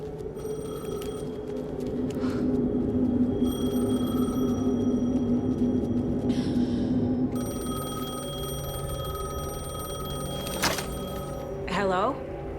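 A payphone rings in the video game Alan Wake 2, repeated electronic trills over a steady ambient game score, with brief pauses between rings and a sharper tone near the end.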